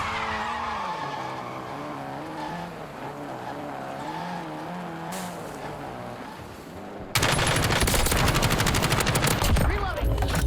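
A vehicle in a Call of Duty Warzone solos match drones with a wavering engine pitch, then gives way to a loud, rapid burst of machine-gun fire and skidding near the end.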